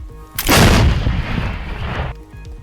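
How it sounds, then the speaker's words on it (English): An RPG rocket fires in the video game Teardown, one loud blast that sweeps into a sustained roaring whoosh, lasting about a second and a half before cutting off. "Then there's the RPG rocket, which you can launch by pressing E."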